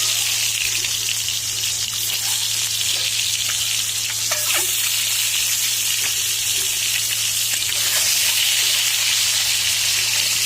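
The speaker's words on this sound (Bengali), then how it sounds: "ডিমগুলো ছাড়িয়ে নিয়ে হলুদ দিয়ে মাখিয়ে নিয়ে এবার আমি ভেজে নিচ্ছি" Peeled boiled eggs coated in turmeric fry in hot oil, giving a loud, steady sizzle with occasional pops and spatters throughout, close up and with no talking.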